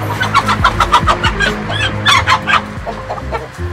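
Country chickens on a farm raised for curry and pickles cluck repeatedly in a busy, close flock, with overlapping calls and a short crow-like note.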